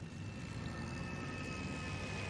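Twin-engine SB 2M-100 bomber's propeller engines drone steadily in War Thunder, the right engine damaged and struggling, a continuous low rumbling hum that stays even and moderately loud throughout with no talk over it.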